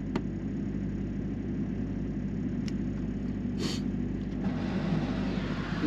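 A semi-truck's auxiliary power unit hums low and steady nearby with the main engine off, with a couple of faint clicks and a brief hiss over it.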